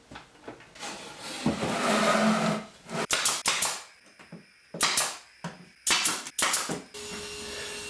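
Brad nails are driven with glue into a wooden frame and backboard for a wall tool holder: about six sharp, close pops, some in quick pairs, following a few seconds of rustling workshop noise.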